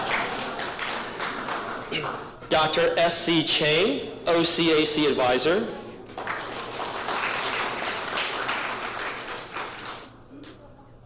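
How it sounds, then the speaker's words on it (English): Scattered clapping from a reception audience as guests at a sister-city anniversary event are introduced one by one, running under a man's spoken introductions and briefly swelling in the middle. "we might as well just clap for everybody now"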